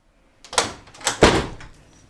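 A door opening and closing, producing a few quick thuds and clatters of moderate loudness over roughly a second and a half, with no talking.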